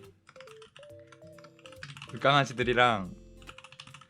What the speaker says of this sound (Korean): 키보드 소리가 너무 적나라하게 들릴 것 같아서 무서워.